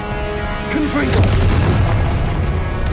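In Hogwarts Legacy, a Confringo fire spell erupts in a deep, heavy boom that rumbles on for a couple of seconds, preceded by a brief magical whoosh, with a voice shouting the spell.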